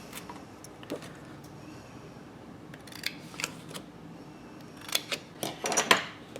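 Scissors snipping out paper squares in scattered short cuts and clicks, quiet and close, growing busier toward the end with several quick snips in a row.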